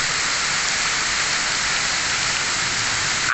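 Heavy rain with strong wind, a loud dense continuous hiss and wash of downpour that stays steady throughout, close and without voices.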